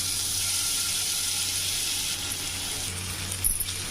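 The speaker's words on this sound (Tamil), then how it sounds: "கொஞ்சம் நெய் விட்டுக்கலாங்க. பன்னீரை இதில் போட்டு ஃப்ரை பண்ணிக்கலாம்." Paneer frying in ghee in a pan, a steady, fairly loud broadband sizzle that holds evenly throughout, with a brief clatter near the end.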